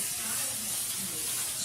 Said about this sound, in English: spray the top, give that little vegetable oil